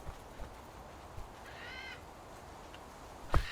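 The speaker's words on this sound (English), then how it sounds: "The birds, don't come after me," Birds in the survival video game Survival: Fountain of Youth give a short cawing call over faint ambient game noise, followed by a sharp louder cry near the end, with no talking.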